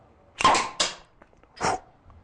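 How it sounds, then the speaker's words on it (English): Beer bottle caps popping off during bar flairing, with two sharp close pops in quick succession and a third a moment later, loud and alone with no talking. "And then all you do is just go up and you catch the cup of the bottle like this. And it pops automatically."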